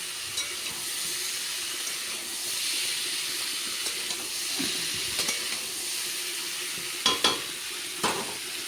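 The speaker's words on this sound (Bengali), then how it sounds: "একটু ভালো মতন ভাজা হবে তারপর কুই পাতাটা দিয়ে দেবো" Steady sizzling hiss of vegetables frying in a pan, with occasional scraping and stirring clatters, close and moderately loud.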